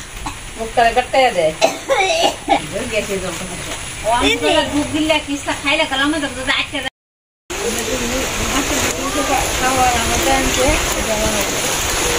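Rain pours steadily over a village during cooking, a continuous soft hiss running beneath nearby voices talking, with a brief cut to silence midway before the downpour resumes.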